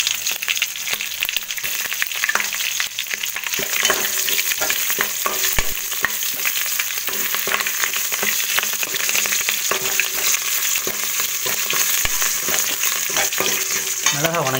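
Continuous loud sizzling of green chilies frying in oil with stirring and occasional sharp clinks of a utensil against the pan.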